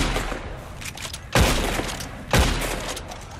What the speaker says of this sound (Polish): musiałem oddać kilka strzałów